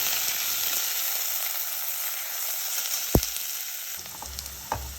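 Onions sizzle as they fry until brown in hot oil for pulao, a steady, close crackling hiss throughout, with a sharp knock of a spoon against the pan and a few softer clinks near the end.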